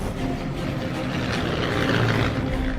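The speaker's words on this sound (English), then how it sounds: "Racing across the desert after a dawn raid, Jock Lewis's convoy was spotted by a German plane." A German WWII propeller plane flies over open desert, its steady, broadband engine drone filling the whole stretch at a constant, fairly loud level with no speech.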